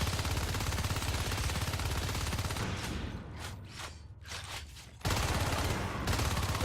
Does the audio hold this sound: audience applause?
no